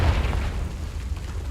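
Explosion from the Confringo blasting spell in Hogwarts Legacy: a heavy, low boom with a rumbling fiery tail filling the whole moment, loud and close.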